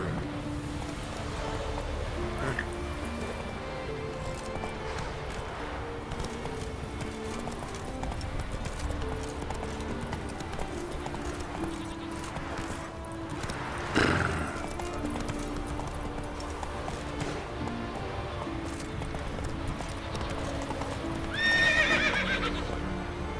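Roach the horse gallops in The Witcher 3 game, a steady clip-clop of hooves running under a dense game soundtrack, with a brief whinny near the end.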